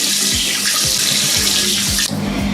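Tap water runs steadily into a sink while someone washes their face, a loud continuous splashing stream close by with brief changes as hands move through it.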